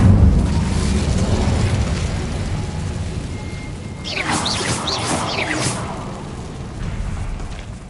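An Incendio fire spell is cast in Hogwarts Legacy: a loud, dense roar swells with swirling whooshing flares partway through, then settles back into a rumbling wash.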